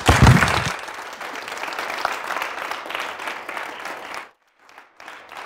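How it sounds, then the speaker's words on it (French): A TV studio audience applauds loudly after a brief voice, sustained clapping that cuts off suddenly, followed by a few scattered claps. "On va applaudir très fort"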